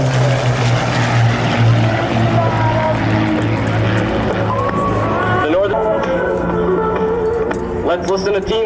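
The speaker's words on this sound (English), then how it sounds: "Andre Lorte will now bring the team back to show center for the thrilling simultaneous roll." Propeller-driven fixed-wing air show team aircraft perform a simultaneous roll at a 1997 military air show, their engines droning loudly and steadily overhead, shifting pitch as they pass, with an announcer's voice over the top.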